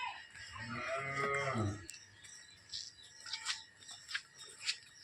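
A cow moos once in a long, low, nearby call outdoors near hills, followed by faint insect chirps and scattered small sounds.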